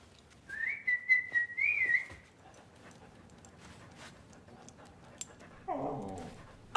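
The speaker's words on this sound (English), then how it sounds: "Oh, what's with the dog?" A dog whimpers and whines in a high, wavering tone lasting over a second, followed by quieter rustling and a short, lower dog vocalisation near the end, in an indoor scene from a TV drama.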